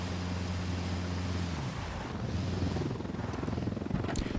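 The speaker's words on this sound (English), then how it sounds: "They got a helicopter." Helicopter in the video game Ghost Recon Wildlands, a constant whirring rotor drone with a low throbbing pulse that holds steady and close throughout, no talk over it.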